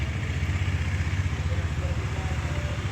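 A Husqvarna Svartpilen 250 motorcycle engine idles steadily after a cold start, a close, loud rhythmic low thrum with light mechanical clatter, while people talk nearby.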